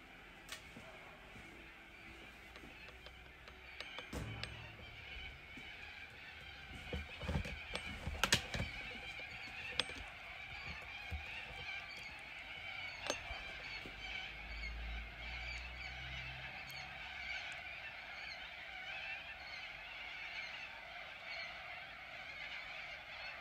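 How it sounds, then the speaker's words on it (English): A flock of galahs calls outdoors with scattered harsh screeches and squawks, some loud bursts near the start and middle, over a steady background hiss. "A big bunch of galahs."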